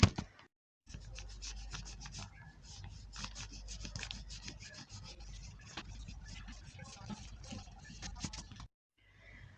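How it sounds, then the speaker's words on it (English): Steady, rapid scratchy rubbing of an eraser on paper, erasing pencil sketch lines, close up and continuous, with brief pauses at the start and end. "Want to hear the satisfying sounds of me erasing the sketches"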